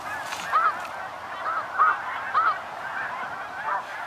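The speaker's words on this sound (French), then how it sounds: "Les oiseaux passent au-dessus de nous." Snow geese flying overhead during a spring hunt in Québec, giving several honking calls spread across a few seconds, moderately distant over a steady outdoor hiss, with no one talking.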